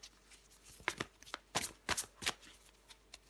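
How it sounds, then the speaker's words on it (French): Tarot cards shuffled and drawn by hand at close range, a series of quick papery riffles and snaps in irregular bursts, fairly quiet with no talk. "Allez, je prends encore une carte pour vous."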